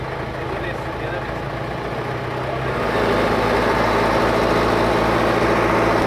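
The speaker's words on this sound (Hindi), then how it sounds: "now it is time to drive the beast the J C B" A JCB backhoe loader's heavy diesel engine rumbles steadily and then swells louder as it accelerates in drive, a continuous low drone close by with no talk over it.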